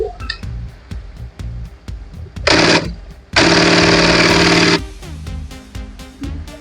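A loud machine used for dress work roars in two harsh bursts, a short one and then a longer sustained run, against a background of steady rhythmic ticking.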